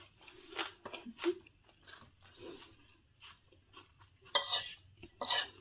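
Crunchy bites and chewing of stir-fried chicken-skin mushrooms with shrimp, close up, in short irregular bursts with soft cutlery or dish clinks and two sharper crunches near the end.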